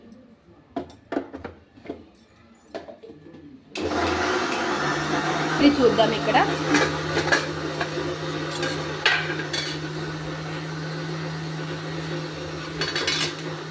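A mixer grinder blending a masala paste of dried coconut with water for Natukodi Pulusu, country chicken curry, roaring loud and steady with a whirring hum after a few quiet taps and a brief voice.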